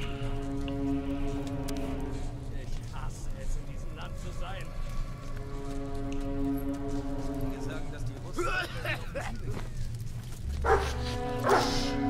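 A dog barks and whimpers in the War Mongrels video game, with repeated yips over a steady musical drone and a person talking throughout.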